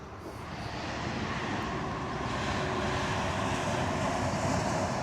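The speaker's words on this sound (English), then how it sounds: "That little boat sounds like a damn jet ski." A steady engine drone, constant and fairly loud, a small motorboat running nearby on a river, sounding like a jet ski, with a broad noisy rumble and no voices.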